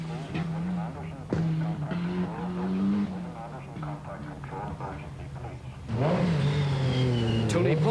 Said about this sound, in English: Down the avenue of trees comes the Cosworth